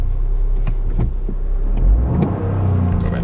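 A Toyota GR Yaris engine is restarted after a fault, running close and loud with a low rumble and brief revs, joined by faint clicks and whirs.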